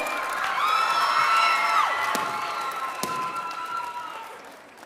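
Cheering and whooping from a crowd of students and families at a taekwondo school Christmas party, with sustained shouted voices and a few sharp claps, loud at first and gradually tapering off.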